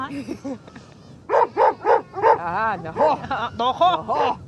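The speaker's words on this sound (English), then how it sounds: "Hello, dog." A dog barks at a nomad camp in the Mongolian mountains: a close, loud series of sharp, pitched barks in quick succession, preceded by a few softer yelps.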